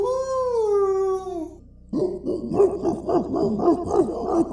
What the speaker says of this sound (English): A howl, followed by barking. Dogs, loud, sharp, furious.